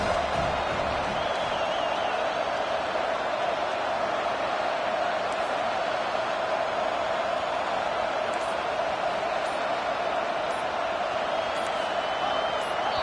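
A stadium crowd in College Football 25, a loud, steady roar of many voices that holds throughout with no breaks, while a commentator talks over it.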